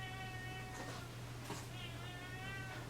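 A cat meows a few times, drawn-out and plaintive, fairly close, over a steady low electrical hum.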